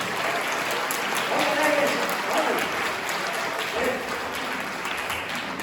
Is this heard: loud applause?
yes